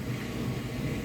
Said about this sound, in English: Pardon the background noise. I have the dishwasher going.